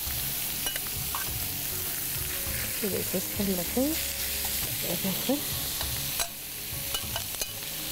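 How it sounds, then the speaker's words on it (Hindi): Boiled minced meat (keema) sizzling in a pan over low heat while being stirred, with scraping spoon sounds and a steady fry hiss as a person talks over it. "इसको हल्की आंच में हम पकाएंगे कीमे को"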